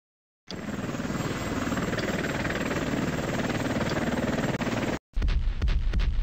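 Helicopter rotor throbs loud and continuous for several seconds, a dense rapid chopping that cuts out briefly near the end before resuming.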